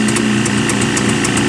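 A cold Jawa motorcycle engine that has sat unused for a year runs at a steady, close, loud idle, its low rhythmic putter even and uninterrupted with no voices.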